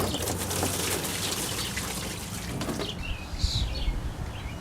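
Water pours and trickles steadily through the radiator of a Pontiac Vibe or Toyota Matrix, rinsing out old antifreeze and fluid in a continuous close splashing wash, with faint birdsong outdoors.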